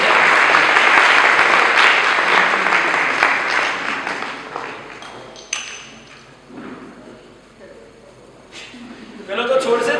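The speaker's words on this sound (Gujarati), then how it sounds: "એકવાર જોરદાર તાળીઓ થઈ જાય" An audience at a Paryushan Mahaparva gathering in Kitale breaks into loud, dense applause that gradually thins and fades over several seconds, leaving a few scattered claps and some talking.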